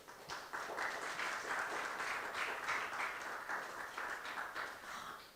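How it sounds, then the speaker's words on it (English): Audience applause at a Czech–Hong Kong design dialogue event, thanking the seven Czech speakers; steady, dense clapping from a hall crowd that holds for several seconds before tapering off. "Shall we have another round of claps to thank all the 7 speakers from the Czech side?"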